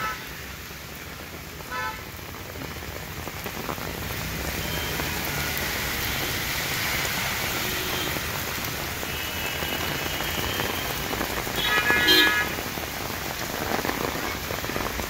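Heavy rain pouring on Mall Road in Nainital, a dense, continuous hiss of water striking the street, with a car horn tooting briefly near the end and faint voices in the distance.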